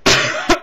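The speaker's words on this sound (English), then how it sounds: "Cough a few times" A person coughs up close, one long rough cough followed by two short sharp ones in quick succession, loud and with no talking.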